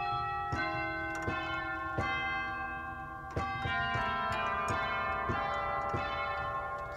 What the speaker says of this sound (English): We've got our chimes.